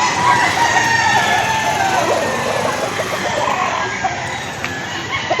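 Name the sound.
roosters crowing at a chicken market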